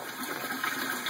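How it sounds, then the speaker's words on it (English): Water drains steadily from an aquaponics grow bed as a bell siphon kicks in, a continuous close gurgling rush with no voices. "this bell siphon kicks in and pulls all the water out of the grow beds"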